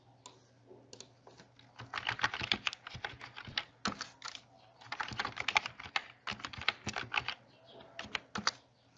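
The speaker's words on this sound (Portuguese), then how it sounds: "Eu vou digitar normalmente" Fingers type on a computer keyboard while entering expense figures into a spreadsheet, producing bursts of rapid close key clicks separated by short pauses, over a faint hum.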